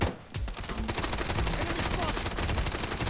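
Dense automatic gunfire and overlapping shots from a mobile shooting game played on a budget smartphone, loud and continuous with rapid bursts throughout, muffled voices faintly underneath.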